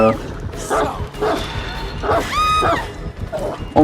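A dog in the video game Dead by Daylight barks several times in short bursts, mixed with game effects and a rising electronic tone, with people talking over it.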